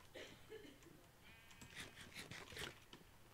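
Sheep in the Minecraft video game bleat several times in short wavering calls over a faint background hiss.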